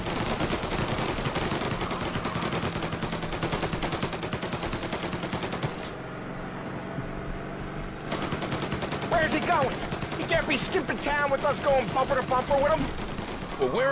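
Rapid, dense gunfire from allied shooters in the game Mafia crackles almost continuously, briefly easing mid-way, with voices talking over the latter part.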